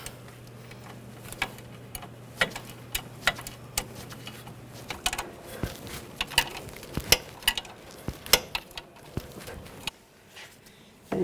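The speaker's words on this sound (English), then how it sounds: "tighten down the nut." Sharp metallic ratchet clicks and wrench taps while the sway bar link nut is tightened on a 2009-2017 Volkswagen Tiguan, an irregular run of close, crisp ticks with a low hum early on.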